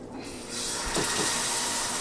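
Warm water poured into a pan on the fire for homemade gravy, a steady close hissing splash that starts abruptly and runs evenly to the end.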